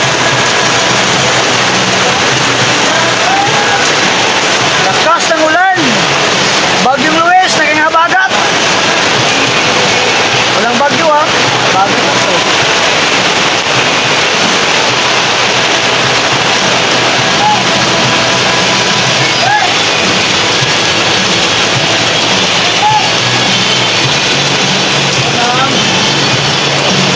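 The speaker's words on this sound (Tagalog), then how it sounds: "Lakas ng ulan!" Heavy rain pours down in cold, windy weather where street vendors work, a dense, steady roar that fills the whole scene, with a few brief voices breaking through early on.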